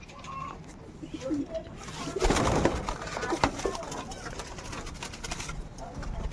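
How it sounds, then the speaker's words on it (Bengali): Pet pigeons coo softly near a loft, with a brief burst of fluttering and rustling as birds are released, and someone talks intermittently over the scene. "অনেক দূরে উঠছে তিনটে কবুতর আর এদিকে সব কবুতরগুলো বাইরে আছে"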